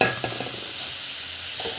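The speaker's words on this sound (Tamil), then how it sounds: "அந்த பச்சை வாசம் மிளகாத்தூளோட பச்சை வாசம் போகிற வரைக்கும் நல்லா வந்து ஃப்ரை ஆகணும்" Chilli powder fries with okra in a pan, giving a soft continuous sizzle broken by a few stirring scrapes, close and moderately quiet with no voices.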